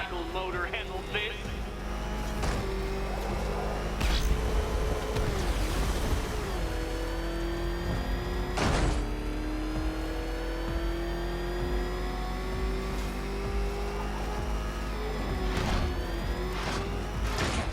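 Batmobile engine in Batman: Arkham Knight revving and droning loudly and steadily throughout, with shifting pitch as it accelerates, under a game soundtrack and brief impacts.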